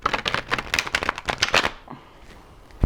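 Rapid riffling of plastic tarot cards being shuffled close by, two or three quick bursts of flapping snaps, then a pause and a final soft tap.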